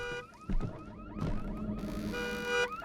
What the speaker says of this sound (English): we hear a car alarm going off